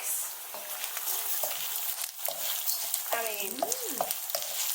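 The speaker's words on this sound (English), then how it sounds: "Now our garlic's nicely cooked and to perfection may I add, we're going to add our uncooked dried rice." Uncooked dried rice frying with cooked garlic in a pan gives a steady broad sizzle with scattered crackles and scraping stirs, close and constant, with a few brief tonal squeaks near the end.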